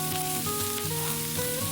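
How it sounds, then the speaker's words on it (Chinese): Pork belly pan-fries undisturbed over high heat in a lightly oiled pan, giving a steady, close sizzle with a faint tonal hum underneath. "开大火不要翻动，慢慢煎"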